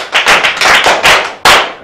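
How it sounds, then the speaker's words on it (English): Children clapping in a classroom, a burst of dense hand claps close by and fairly loud, pausing briefly before a final sharp round. "Black, good. Clap for him."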